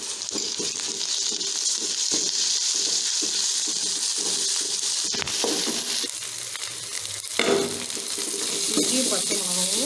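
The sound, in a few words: sautéing ginger and green chillies in a pan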